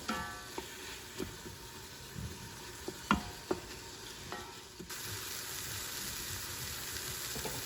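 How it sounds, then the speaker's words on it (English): Habanero peppers sauteing in oil in an Instant Pot: a faint, steady sizzle broken by occasional soft clicks and scrapes of stirring. "we're going to saute these for about 3 minutes. You want to move this around the pot."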